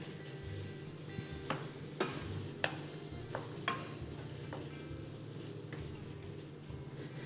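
A spoon stirs onions and carrots in a cooking pot, with faint soft scraping and a few sharp clinks against the metal at scattered moments over a low background hum.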